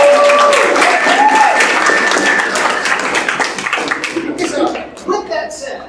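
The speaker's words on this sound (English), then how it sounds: "I wanted us to give Lauren and Netta another round of applause." An arts-event audience gives a round of applause for two honourees, loud clapping at first that gradually thins into scattered claps, with voices speaking over the crowd as it fades.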